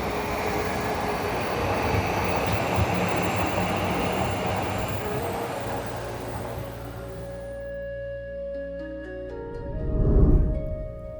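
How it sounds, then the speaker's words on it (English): A loud, steady rumble of a passing Tokyo subway train, heard from a garden, fades out, leaving quieter hum before a brief low thump near the end. "And I can hear the subway."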